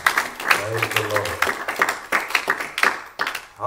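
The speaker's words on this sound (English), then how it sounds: "give the Lord a good hand clap of praise" A church congregation claps hands in praise, a dense round of applause with sharp irregular claps lasting several seconds, mixed with voices and a brief low hum near the start.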